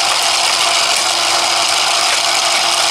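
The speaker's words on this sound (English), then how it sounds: "And you put a screw back on." A screw is driven back into a motorized two-directional booster, giving a steady, close mechanical whirring and ratcheting buzz that runs without pause and with no voices.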